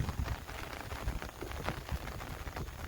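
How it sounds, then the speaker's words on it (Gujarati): Rain falling steadily on a waterlogged peanut field, a dense close patter of drops on water and leaves with no talk. "કાલ સવારની વાતનો વરસાદ ચાલુ છે"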